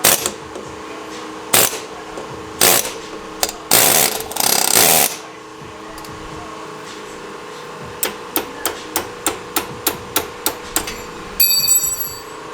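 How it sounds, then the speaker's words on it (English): Loud bursts of a pneumatic air hammer pound a drive shaft bolt on a Honda S2000 in several long blasts, then a quick series of short, evenly spaced rattling hits, all up close. "So I'm going to air hammer it, try and shock it loose a little bit."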